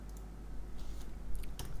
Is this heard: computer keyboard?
yes